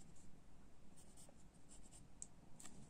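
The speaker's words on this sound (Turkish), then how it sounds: "İlk önce hata oranı olabilecek için kuru kalemle çiziyorum." A dry pen scratches across paper while sketching a minimal line drawing, a quiet, close, continuous scratching with small bursts of strokes and no talking.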